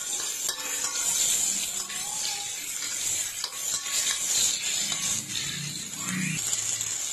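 Salted fish frying in a little hot oil, a steady sizzle with occasional scrapes of a utensil stirring the pan, fairly close.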